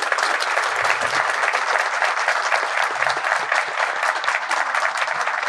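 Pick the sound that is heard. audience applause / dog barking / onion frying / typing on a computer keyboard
audience applause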